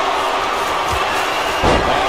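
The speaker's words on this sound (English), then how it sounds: "Slamming their face into the mat." A wrestler slammed onto the mat in WWE 2K26 lands with a single heavy thud near the end, set against a steady roar of arena crowd noise.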